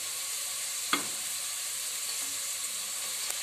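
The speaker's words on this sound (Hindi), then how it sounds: "अब मैं इनमें कड़ी पत्ता और सफेद जीरा शामिल कर दूंगी।" Curry leaves and white cumin hit browned frying onions for chana pulao, a steady hiss of sizzling oil with a sharp burst as they drop in and faint stirring scrapes.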